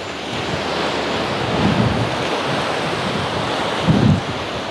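Storm surf breaking on the central beach at Anapa, a steady roar of waves washing over the sand with strong wind buffeting throughout and two heavier wave surges swelling louder.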